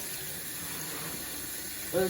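Running water rinses collard greens while they are strained in a kitchen, a soft steady tap-like flow with a brief louder splash at the end.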